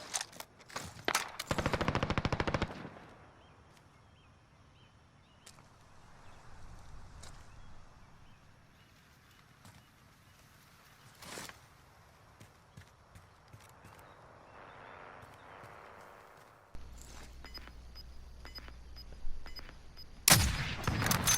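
Suppressed gunfire in Call of Duty Warzone: bursts of muffled, rapid shots early on, then quieter game ambience and a sharp closing volley near the end.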